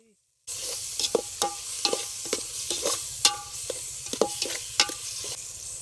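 A spoon scrapes and stirs ponnaganti greens curry with turmeric and salt in a pan over an outdoor village fire, a low sizzle running underneath irregular clinks and knocks, close by.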